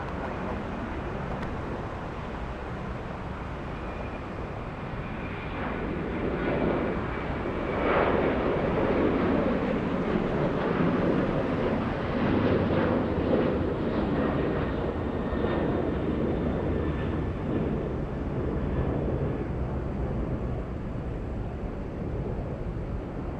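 A CRJ jet on its takeoff roll at Atlanta Hartsfield-Jackson airport, its engine roar a steady, broad rumble that swells and holds from a distance.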